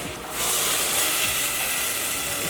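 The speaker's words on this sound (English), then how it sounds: "First I'm sizzling. I'm gonna add the 2 cups of water." A sharp hiss erupts as water is poured into a sizzling hot pot while making lentil soup, becoming a steady loud steamy rush that fills the whole moment.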